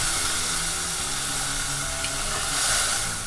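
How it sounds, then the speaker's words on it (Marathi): Chana dal sautés with salt in a hot pan, giving a loud, continuous close-up sizzle and hiss that holds steady throughout. "हे बघा डाळ अशी परतून घेतली आहे."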